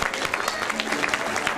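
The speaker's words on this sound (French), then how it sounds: "On les applaudit encore bien fort," Audience applause at an open-stage evening performance, a steady wash of clapping from the crowd through the whole short stretch, fairly close and even in loudness.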